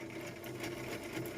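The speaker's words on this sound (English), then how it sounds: "I love you, sewing machine." A sewing machine stitches faux leather and card stock, its motor running in a steady, fast whir with rapid needle clatter, close and continuous for the whole moment.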